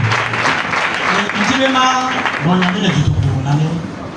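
A church congregation claps in steady, loud applause throughout, with a raised voice calling out over it.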